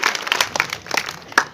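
A live audience claps after being urged to give a loud round of applause for a guest who travelled about 200 kilometres from Saharanpur, a short burst of scattered hand claps that is dense at first and then thins out.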